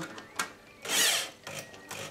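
A power drill tightens screws on a small pop-pop boat engine, short whirring bursts with one longer spin in the middle, close but fairly quiet, ratcheting in between.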